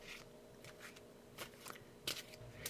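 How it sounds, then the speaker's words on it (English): Overhand shuffle of a deck of playing cards: a few soft, papery riffling bursts with quiet gaps between them, close and fairly faint, with no talking. "I'm shuffling here, and I'm using an overhand shuffle"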